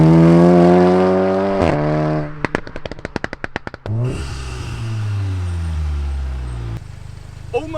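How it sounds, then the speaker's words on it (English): VW Golf R fitted with a 3-inch Scorpion downpipe and full exhaust system, loud and close, rising in revs, then a rapid burst of sharp pops and crackles before settling into a deep, droning exhaust note. "Now previously I fitted a 3-inch Scorpion downpipe and full exhaust system. And it is insanely loud."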